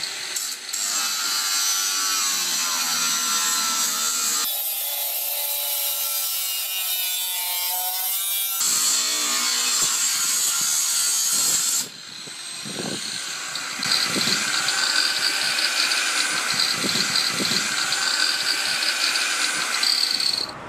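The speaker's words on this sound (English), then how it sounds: "Have a look at this video, how this guy tried to cut this purlin." An angle grinder cuts into a steel purlin at a building site, a loud continuous high whine that shifts pitch abruptly several times as the disc binds and bites, with rough scraping toward the end.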